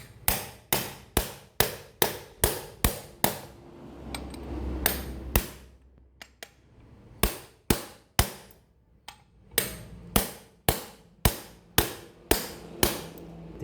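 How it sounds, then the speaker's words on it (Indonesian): Hammer blows driving a noken into place in a workshop, a steady series of sharp, close strikes with a short pause in the middle before the regular pounding resumes. "dipalu seperti ini, asalkan pemasangannya benar, caranya benar, aman kok untuk bagian kop"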